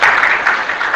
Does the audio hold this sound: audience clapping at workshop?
yes